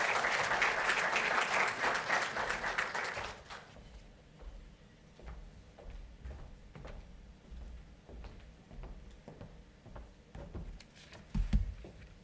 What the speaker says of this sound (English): So let's give the round of applause for the VC.